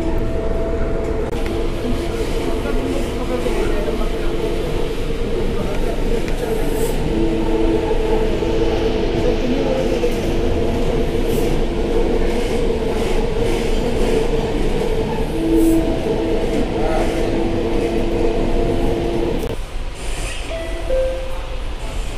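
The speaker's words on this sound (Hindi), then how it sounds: "आज मैं मेट्रो में आई हूँ।" A Delhi metro train rides along with a continuous loud rumble and rail clatter, wheels squealing faintly now and then, and the noise eases slightly near the end.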